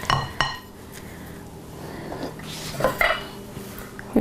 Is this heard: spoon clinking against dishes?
yes